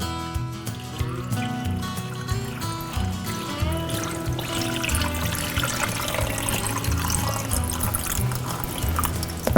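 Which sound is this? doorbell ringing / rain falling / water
water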